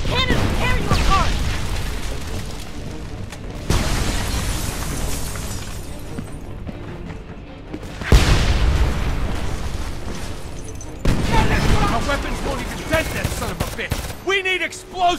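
Heavy tank cannon blasts boom repeatedly amid chaotic video game battle noise, gunfire and shouted voices, each loud impact followed by a long rumbling decay.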